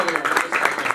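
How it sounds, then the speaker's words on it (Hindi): Applause at a flute music gathering in Alipur Chatha, a brief wash of clapping from a seated crowd with voices talking underneath. "एक दफा यूनुस के लिए तालियां।"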